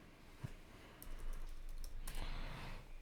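Keys on a computer keyboard are tapped in a short burst of light clicks against a quiet room background, with no voices.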